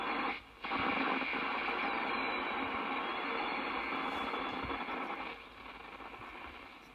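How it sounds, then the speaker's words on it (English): Steady broadband radio static hisses throughout on a Lafayette KT200 receiver, with faint rapid beeping tones of fast Morse code flickering near the top, briefly dropping out early on. "sounds like a fast Morse code"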